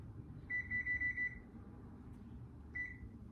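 A kitchen oven's control panel beeps in a quick run of short electronic tones as the oven is set to 325 degrees, then one more beep follows after a pause, all clear over low room hum.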